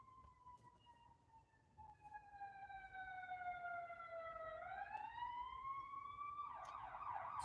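An ambulance siren wails outside at a distance, a sweeping tone that slowly falls and then rises again, faint but clear over a low hum of background noise.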